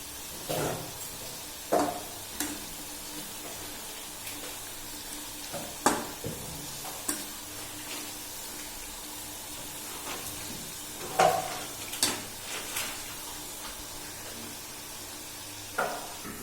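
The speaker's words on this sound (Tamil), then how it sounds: "இப்போ பாருங்க, எண்ணெய் நல்லா கொதிச்சிட்டு இருக்கு." Home-made wheat biscuits deep-fry in boiling oil, a faint steady bubbling sizzle broken by occasional soft knocks and clinks of a utensil in the pan.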